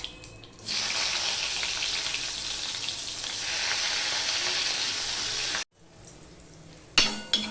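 Chopped onions go into hot oil with panch phoron for a broccoli curry, giving a loud, steady frying hiss that cuts out abruptly near the end, then resumes briefly.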